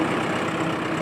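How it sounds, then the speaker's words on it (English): A new tractor's engine idles steadily at a farm during break-in running, a continuous low, even rumble with no speech over it. "I'm gonna run this tractor"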